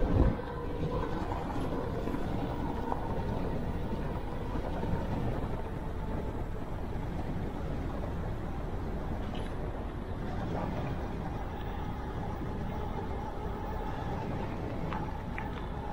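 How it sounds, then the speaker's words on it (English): Steady wind buffeting and roaring across the microphone while riding a Ride1Up Core-5 electric road bike on an open stretch, a constant broadband rush with no talk. "Man, it's windy."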